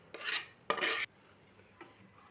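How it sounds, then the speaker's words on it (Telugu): Two scraping strokes of a spoon working rice into chicken biryani gravy in a pot, close and brief, then a fainter third scrape after a pause. "ఇలా రెడీ అయిన గ్రేవీలో రైస్ మొత్తాన్ని వేసుకోవాలి వేసుకొని బాగా కలుపుకోవాలి"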